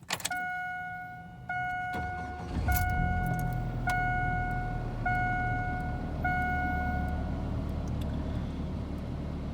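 A rebuilt 1999 Chevy S10 truck engine cranks briefly, catches and settles into a steady idle, accompanied by a repeating chime tone as it runs close by.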